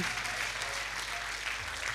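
A church congregation at a prophetic service breaks into continuous, dense applause, filling the space with an even wash of clapping that lasts throughout.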